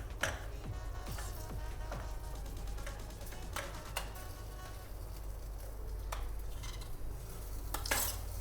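Boiled potatoes tumble into cooking masala in a pan and get stirred, with soft scraping and clinking of a utensil against the pan over a steady low hum, a few sharper taps standing out.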